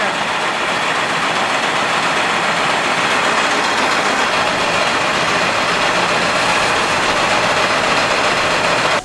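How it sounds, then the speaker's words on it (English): A grain dryer burner roars steadily at close range, a loud, dense, unbroken rushing noise that holds without change from start to finish. "The burner kicked in, so that's a good sign."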